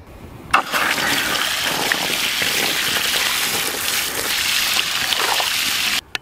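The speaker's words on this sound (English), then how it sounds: "I'm just going to fill this tub up and let it slowly expand." Cold water pours steadily into a tub outdoors, set out for soaking sweet potato slips, making a continuous rushing splash that starts abruptly, holds evenly for several seconds and then stops sharply.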